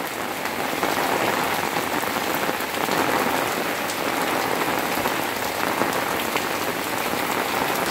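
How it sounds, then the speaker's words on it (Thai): Steady, dense rain patters on Colocasia leaves and surfaces, a constant hiss with no pauses and no voices. "ช่วงนี้ฝนเยอะครับ"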